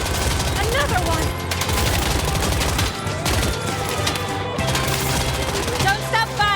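Rapid automatic gunfire and bursts from the video game Ananta rattle on continuously and loudly throughout, mixed with game effects and a voice talking over the shooting.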